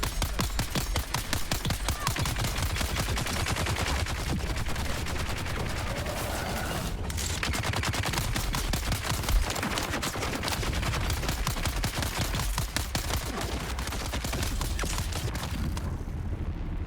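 Rapid gunfire in Dune: Awakening while fighting a heavy gunner, with dense strings of close, sharp shots and occasional bursts rattling almost nonstop for about seventeen seconds.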